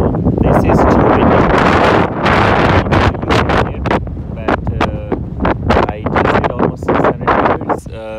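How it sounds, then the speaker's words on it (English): Loud gusts of wind on a mountain hike batter the microphone in heavy, uneven blasts, easing briefly between bursts. "this is too windy."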